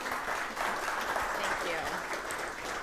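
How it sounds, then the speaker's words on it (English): Audience applause at a law lecture event honoring a guest speaker, a dense steady clapping from a crowd filling the whole span at even loudness. "let's give a big round of applause for Hannah for being here with us today."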